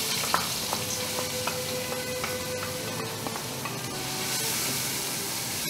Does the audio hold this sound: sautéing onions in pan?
yes